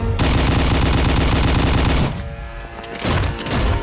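Rapid automatic gunfire from a Bollywood film scene, a loud continuous burst of shots for about two seconds, then fading echoes and scattered smaller bangs.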